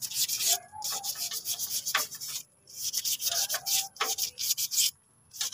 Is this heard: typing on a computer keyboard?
no